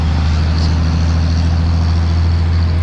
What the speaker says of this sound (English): Nice Cummins.